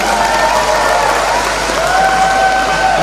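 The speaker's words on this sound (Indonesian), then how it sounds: "Beri aplaus untuk ketiga grup." An audience in a hall gives loud, continuous applause for three teams in a Qur'an quiz final at a provincial recitation competition, a dense, steady wash of clapping throughout with faint crowd murmur beneath.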